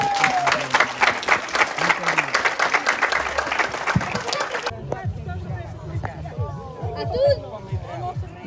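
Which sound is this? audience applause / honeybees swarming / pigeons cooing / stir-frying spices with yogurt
audience applause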